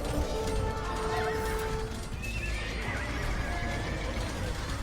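A horse whinnies in a video game amid a thick wash of game noise, with galloping hooves clopping underneath and no talking.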